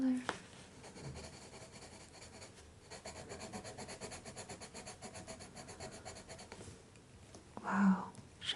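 Staedtler Noris Club Aquarell coloured pencil laying down skin-tone colour on paper, a soft continuous scratchy rubbing in quick strokes, faint and close, with brief quiet gaps.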